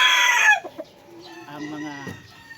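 A fighting rooster lets out a loud, close crow that trails off, followed by softer clucks and faint murmuring talk in the background.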